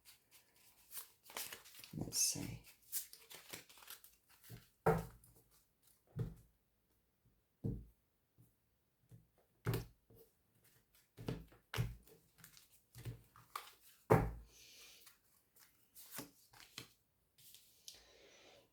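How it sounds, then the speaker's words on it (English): Short bursts of tarot cards being shuffled and riffled, repeated several times at close range with pauses between, a brief spoken remark near the start. "Let me just shuffle them up again."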